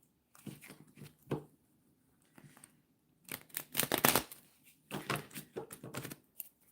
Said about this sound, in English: I'm just shuffling up the deck that I used earlier